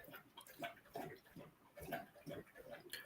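A dog laps water in quick irregular bursts of wet slurping, close and fairly faint, with brief pauses between laps.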